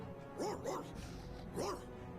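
Dog barks from the video game Tales of Vesperia, a few short yelping woofs in quick succession over a backdrop of game music and ambience.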